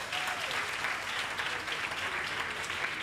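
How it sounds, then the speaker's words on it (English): Audience applause fills a graduation oath-taking ceremony for pharmacy and health care sciences schools, a steady, dense wash of many clapping hands heard from within the crowd. "Please give yourselves a round of applause."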